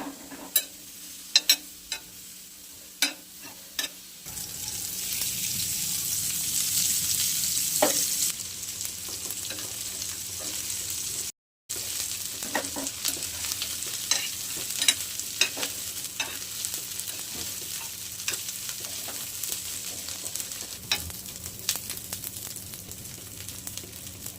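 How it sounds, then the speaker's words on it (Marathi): Dried Bombay duck (bombil) dry-roasting in a pan over a low gas flame, giving a steady soft sizzle with scattered clicks and scrapes of stirring, close and unbroken apart from one brief gap. "हे ना मस्त भाजून घ्यायचं आपल्याला बारीक गॅसवर, ना कसं बारीक गॅसवर भाजून घेणार आहे आपण"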